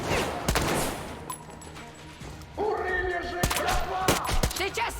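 Gunfire from a companion in the video game Metro Exodus, sharp single shots and short bursts with clattering impacts, fairly close, under someone talking in Polish and game voices.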